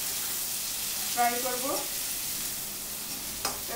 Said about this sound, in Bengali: এই একটু টমেটোও দিলাম। তারপর সব একটুখানি ফ্রাই করবো।